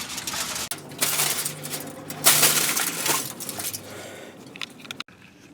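A 15mm wrench breaks loose the oil drain plug on a Ford 6.8L or 7.3L V8, with close metallic clanks and a grinding scrape, then a sharp knock and a sudden drop to quiet.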